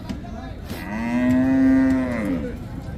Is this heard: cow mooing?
yes